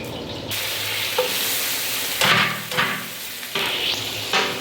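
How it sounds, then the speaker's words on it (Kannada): Onions fry in hot oil in a large batch for palak pulao, a dense continuous sizzle broken by several loud clanks and scrapes of a stirring ladle against the pot; no speech. "ಇವಾಗ ಈರುಳ್ಳಿನ ಚೆನ್ನಾಗಿ ಫ್ರೈ ಮಾಡ್ಕೊತಾ ಇದ್ದಾರೆ ನೋಡಿ."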